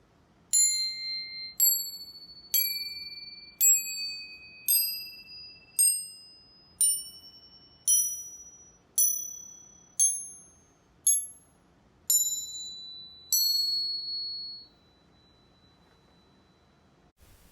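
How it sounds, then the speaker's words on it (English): Crotales, the antique cymbals, struck with hard mallets: thirteen bright, ringing metallic pings in a steady rhythm, each decaying slowly, with the final note left to ring out alone. "They are also known as the antique cymbals, but they are more well known as the crotales. They also use harder mallets."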